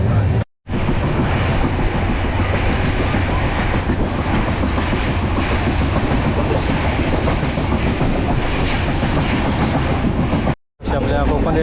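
A Konkan Railway Sindhudurg Express passenger train runs at speed, its steady loud rumble and rhythmic clickety-clack of wheels on rail joints filling the whole stretch, with two brief cuts to silence near the start and end.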